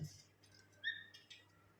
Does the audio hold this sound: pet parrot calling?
yes